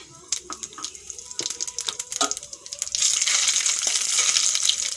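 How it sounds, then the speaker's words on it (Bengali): A bay leaf and cumin seeds hit hot oil in a pan, a few sharp crackles and pops first, then a loud, continuous close sizzle that holds to the end. "তেল গরম হয়ে গেছে এখন দিয়ে দেব একটা তেজপাতা আর দিয়ে দিচ্ছি জিরে"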